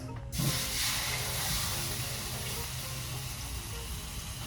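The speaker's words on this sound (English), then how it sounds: "Did you hear that sizzle?" A sudden loud sizzle of spatchcocked whole chicken hitting a hot sheet tray, settling into a steady hissing fry with no talking.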